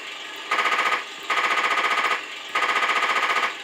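Three bursts of rapid machine gun fire from the sound unit of a 1/6 scale Armortek Tiger 1 model tank, each a steady electronic rattle lasting about half a second to a second, with short gaps between them.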